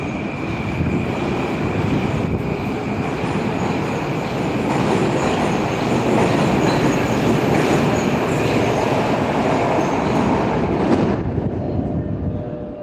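A metro train rumbles loudly and steadily through Moscow's Pushkinskaya station at night, with a constant rail roar and faint high squeal, easing off near the end.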